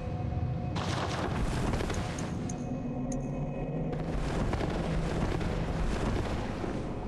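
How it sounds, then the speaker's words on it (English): Fire roaring and crackling around Maria, a boss in the video game Bloodborne, a dense, loud, steady rumble with hissing and bursts running the whole time, alone with no voices. "We get her on fire."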